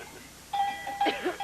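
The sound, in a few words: bell ringing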